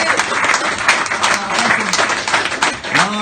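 Live audience applause at a comedy podcast show in Brighton, a dense steady patter of many hands clapping throughout, with scattered voices and a few whoops mixed in.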